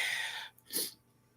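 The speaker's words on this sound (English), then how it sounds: "I'm going to sneeze, y'all" One person sneezes once, a short sharp burst after a breathy intake, close to the microphone and then quiet.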